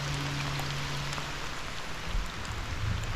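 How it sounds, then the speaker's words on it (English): Steady rain falls outdoors during a kayak fishing tournament in New Hampshire, a dense, even hiss of drops with a faint low hum underneath and no talking. "It has not stopped raining."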